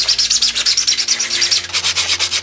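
Rhythmic back-and-forth rasping of sandpaper on the hull of a 3D-printed RC boat, quick regular strokes repeated close by with no talking.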